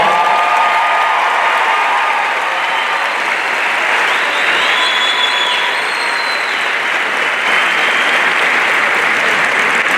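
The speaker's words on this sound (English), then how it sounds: "so round of applause" A large high school graduation crowd gives loud, dense, sustained applause that fills the space evenly for the whole stretch, with faint cheers mixed in.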